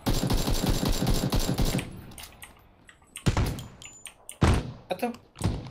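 Rapid bursts of automatic gunfire in a multiplayer shooter video game, a dense loud stream of shots followed by a pause and then several sharp separate shots and short bursts.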